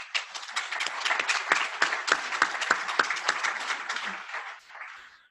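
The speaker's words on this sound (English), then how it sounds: "I hope you realize that you are applauding for yourself" Keynote audience at an energy conference breaks into sustained applause, dense rapid clapping from a large crowd that holds steady for several seconds and then tapers off near the end.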